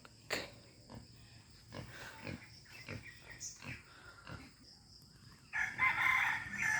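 On a rural farm in Marinduque, Philippines, a rooster crows loudly near the end after a series of scattered clucks and snorting pig noises.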